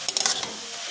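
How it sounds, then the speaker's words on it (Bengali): A spoon stirs bottle gourd simmering in milk in a pan, a few quick scraping strokes over a steady soft sizzle, close up with no voices. "ভালো করে আবারও একটু নাড়াচাড়া করে নেব।"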